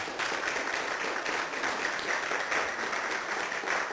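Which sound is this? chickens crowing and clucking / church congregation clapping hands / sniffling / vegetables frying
church congregation clapping hands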